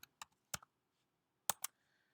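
Several crisp keystrokes clicking on a computer keyboard while a word is entered into a font layer, coming in short separated bursts with pauses between them, close and fairly quiet in an otherwise silent room.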